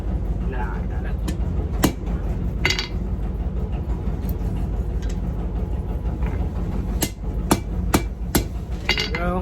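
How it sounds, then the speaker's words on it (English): Sharp metallic hammer strikes ring out on steel over an anvil while riveting blacksmith tongs, irregular and close, with a few quick blows clustered together amid background noise. "set it on the anvil, set this on top, and hammer down over that"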